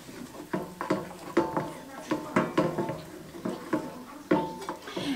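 Dijon mustard and rapeseed oil being stirred together in a bowl, giving a quick, even run of sharp spoon taps and clinks, close by.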